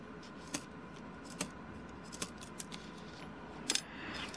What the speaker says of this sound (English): So I'm going to cut this rib at the back, just there.